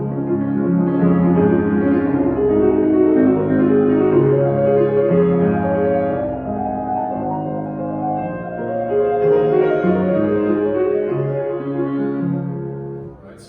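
A solo piano piece: a steady, lilting, dance-like flow of sustained chords and melody, close and clear with no talk.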